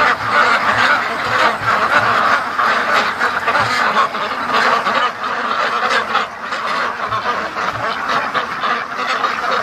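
A flock of ducks rushes toward their feed outdoors, quacking constantly in a dense, overlapping chorus close by, with honking calls mixed in and no break.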